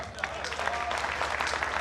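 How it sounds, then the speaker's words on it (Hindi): An audience claps at a Jain festival stage event, a dense patter of applause running steadily throughout the short stretch, moderately loud with a faint tonal hum behind it. "कमजोर तालियों से अगवानी मत कीजिए"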